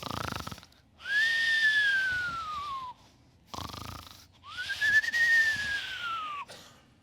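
A man imitates a snoring sleeper with two long, drawn-out whistling, wheezy snore breaths, each rising then falling in pitch, separated by short pauses, close and fairly loud.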